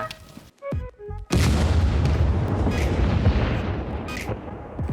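A vehicle in the video game SCUM explodes loudly after a few short clicks and tones, followed by a sustained roaring rumble of fire and debris that fills the rest.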